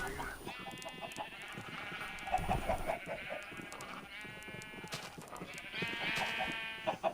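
Sheep in Minecraft bleat several times in wavering, nasal calls over steady game background noise, with a mid-level, fairly close sound.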